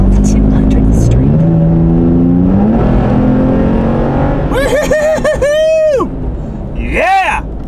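The engine of a Toyota Tacoma truck hums steadily and rises in pitch as it accelerates, with the sweeping tones of vehicles passing nearby. A voice talks loudly over the engine noise.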